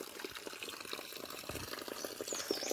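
Water flowing steadily from a natural spring in a village, a soft continuous trickle and splash heard up close with no talk.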